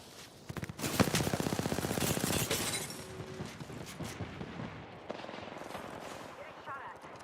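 Rapid automatic gunfire bursts in the shooter video game Apex Legends, loud and dense for a few seconds then thinning to scattered shots and mechanical clicks, with voice lines talking under it.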